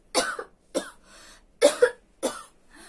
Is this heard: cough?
yes